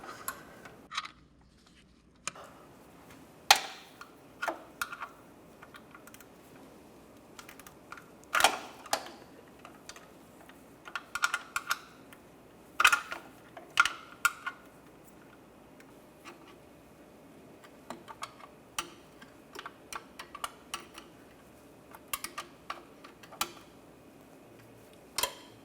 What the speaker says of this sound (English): use your ratchet wrench if you can